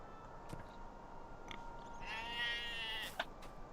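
A single sheep bleats once in Lord of the Rings Online, a wavering nasal cry lasting about a second, over quiet ambient background with a few faint clicks.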